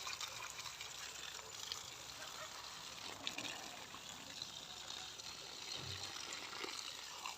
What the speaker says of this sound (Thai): ได้ยินแต่เสียงน้ำนะคะ